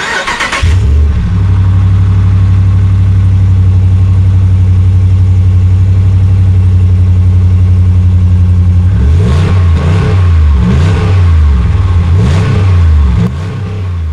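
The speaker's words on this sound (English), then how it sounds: "Last but not least is the Hemi sound and power is awesome." Ram 1500 Big Horn pickup with a Hemi V8 runs loud and close, a deep steady idle after startup followed by several throaty revs near the end.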